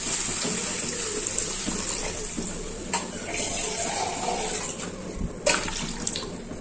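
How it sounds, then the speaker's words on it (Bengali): Water poured into a pan of phuluri curry, a running splashing stream close by with a few clanks of the pan, under a faint voice. "এবার আমি এর মধ্যে দিয়ে দিচ্ছি পরিমাণ মতন জল।"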